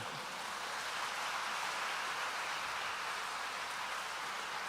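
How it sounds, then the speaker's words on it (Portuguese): A congregation at a church service applauding in a continuous, dense wash of clapping that sounds like steady rain, even and unbroken, with no voices standing out. "você vai aplaudir agora"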